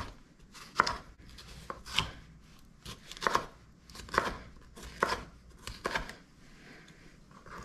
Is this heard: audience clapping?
no